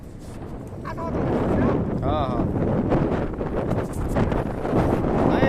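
Steady wind buffeting a microphone, a broad rushing roar that rises after the first second and continues with voices talking over it.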